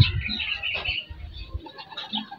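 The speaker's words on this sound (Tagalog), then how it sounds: "mga kaibon." Birds chirping outdoors, a few short bright calls over a low rumbling background, fairly close and clear, with no one speaking.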